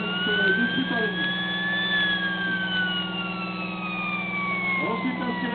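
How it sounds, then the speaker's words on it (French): A wailing siren of an AMX 10 RC armoured vehicle rising and falling over a steady low engine rumble, loud and continuous throughout. "Ensuite la sirène."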